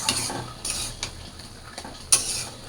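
A spoon scrapes and clinks against a pan as fish curry with cumin powder is stirred, giving a few separate knocks and scrapes over a soft sizzle, with one sharper clank near the end.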